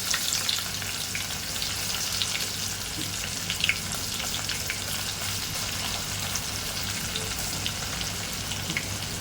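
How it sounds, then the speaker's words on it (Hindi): Chopped onion frying in oil with curry leaves for a cluster bean and potato sabzi: a steady, dense crackling sizzle, close and even throughout, with occasional brighter pops and no voices. "जिसको मैं अब कट करके देखिए आपके सामने डाल रही हूँ ऑयल के अंदर।"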